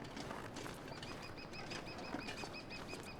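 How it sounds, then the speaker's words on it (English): Birds in the survival game The Long Dark, quick wing flaps and a repeating high chirp pattern over a soft, constant outdoor ambience, with no talking. "I'm really glad we have the sounds of birds here."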